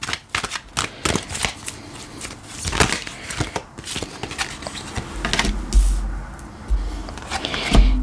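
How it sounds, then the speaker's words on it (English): Tarot cards being shuffled by hand, a run of papery riffling flicks and slaps up close, with a few low thumps near the end and no talking. "I'm trying to show you guys that I'm actually shuffling cards."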